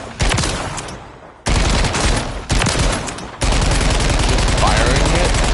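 Automatic weapon firing in Call of Duty MW3, loud rapid bursts of gunfire in several long strings separated by brief pauses.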